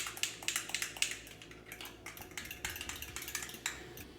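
A spoon stirs soaking chia seeds in a bowl in a home kitchen. Quiet, quick, rhythmic clinks and scrapes repeat steadily with no one talking.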